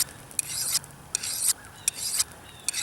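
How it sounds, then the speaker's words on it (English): A SOG Bowie survival knife is drawn across a knife sharpener in four even rasping strokes, each a loud, gritty scrape separated by short pauses. "Sharpen this guy. Doesn't take a whole lot. A couple scrapes along each edge."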